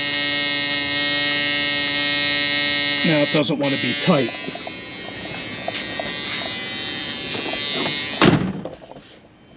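A steady electric warning buzzer drones inside a 1976 Corvette, loud and continuous, then cuts off partway through. A person speaks briefly over it and there are clunks and a door-like bang near the end.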